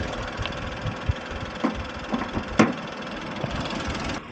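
Tata Punch CNG base model, 2026 facelift, with its engine idling and the bonnet closed, giving a steady low rumble heard from outside the car, with a few faint knocks and clicks over it.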